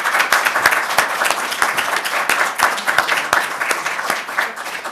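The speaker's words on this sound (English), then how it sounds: "So everybody give a round of applause to the panel." A symposium audience applauds a panel, dense steady clapping from a room full of people, close and loud throughout.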